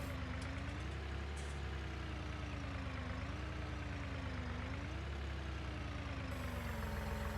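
Tractor engine in the video game Farming Simulator 19, a steady low idling drone with a wavering tonal hum, continuous and close with no talk.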